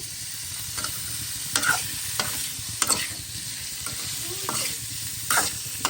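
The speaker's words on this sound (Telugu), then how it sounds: "చిన్న మంట మీద మంచి ఫ్రై చేసుకోవాలి" A gentle, steady sizzle of goat tripe frying in a pan on a low flame, broken by occasional scraping stirs of a spatula at irregular intervals.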